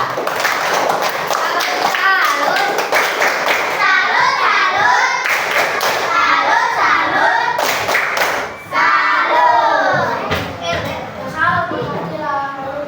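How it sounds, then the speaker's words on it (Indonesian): Classroom clapping for two students, Fatihah and Safa, during a primary science lesson on force, with quick hand claps under children's chatter and the teacher talking over them. "tepuk tangan untuk Fatihah dan Safa"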